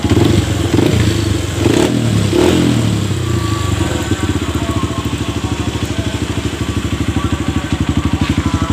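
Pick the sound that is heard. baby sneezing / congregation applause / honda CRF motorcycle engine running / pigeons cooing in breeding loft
honda CRF motorcycle engine running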